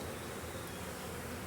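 Bees swarming around an open hive during a Demaree swarm-control split, a dense steady buzzing hum that fills the clip without letting up.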